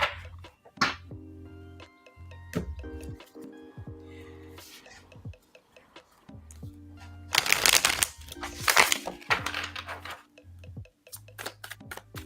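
Tarot cards are shuffled in repeated riffling bursts close by, with brief soft taps between, and a low hum underneath.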